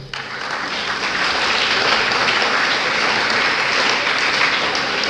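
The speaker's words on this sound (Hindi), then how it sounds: "इनके लिए तालियां हो जाना चाहिए बच्चों।" Sustained applause from a large audience of children at a lecture, dense and steady clapping throughout at a fairly loud level.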